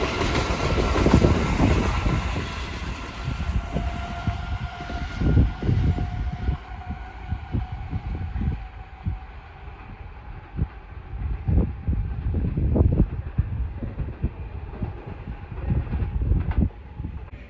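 A Class 387 electric train runs through Hitchin station, a nearby rumble with rhythmic wheel thumps and clacks rising and falling as the carriages pass, fading toward the end.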